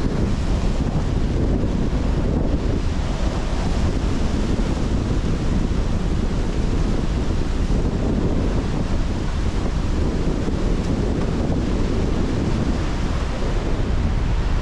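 Strong Typhoon Kristine wind roars across a microphone beside the ocean in the Philippines, with surf churning underneath, a loud continuous rush with no break and no talking.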